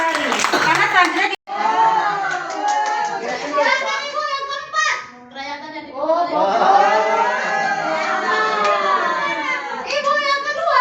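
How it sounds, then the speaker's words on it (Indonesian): Applause from a workshop audience at an introductory session, sustained clapping mixed with children's voices and crowd chatter throughout. "Ya luar biasa, tepuk tangan buat kita semua."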